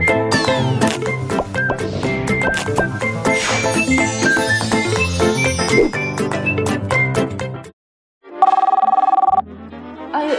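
Telephone ringing amid a busy stretch of jingling chimes and tones, loud and continuous for about eight seconds, then a brief silence before a shorter burst of ringing tone resumes.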